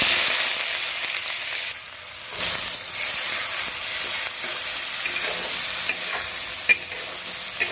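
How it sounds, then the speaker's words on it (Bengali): Two medium onions dropped into hot oil with bay leaves, a loud bright sizzle that dips briefly and then continues steadily with light crackles and stirring. "আমি পেঁয়াজটা তেলের মধ্যে দিয়ে দিলাম"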